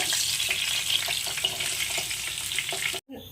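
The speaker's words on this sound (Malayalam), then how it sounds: "ഇപ്പോൾ ചിക്കൻ എല്ലാം നന്നായിട്ട് ഫ്രൈ ചെയ്തെടുത്തിട്ടുണ്ട്" Chicken pieces frying in hot oil in a pan make a loud, continuous crackling sizzle close by, with faint scraping stirs, ending in a sudden cut to silence just before the close.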